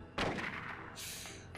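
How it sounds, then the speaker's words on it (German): Gunfire in the Silent Hill video game at an amusement park, with a sharp close shot followed by a sustained burst of reports and a bright hiss. "ich verschieße meine ganze Munition"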